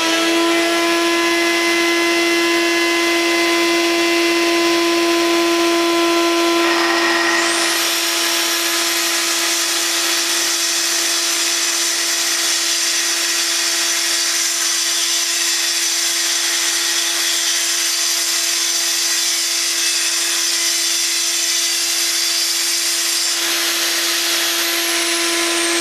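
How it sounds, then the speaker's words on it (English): A Festool dust-extraction vacuum runs steadily with a strong tonal hum, then a louder rushing airflow swells in and holds for a long stretch before dropping back, continuous and close with no talk. "Just turning the vacuum cleaner on."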